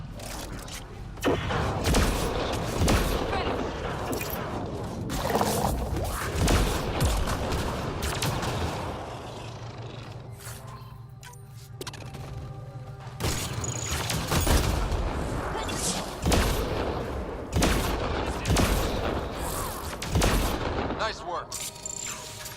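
Shotgun blasts during a firefight in Mass Effect Andromeda, loud repeated booming shots in irregular bursts over battle noise, with a short quieter lull in the middle.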